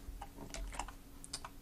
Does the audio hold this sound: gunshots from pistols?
no